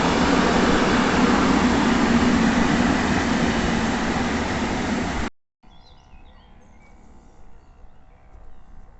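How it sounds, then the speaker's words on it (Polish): A loud, steady rumble of the Przemyślanin passenger train rolling past close by at Tarnów for about five seconds, then it cuts off abruptly to quiet outdoor ambience with faint birds. "jedzie pociąg Przemyślanin"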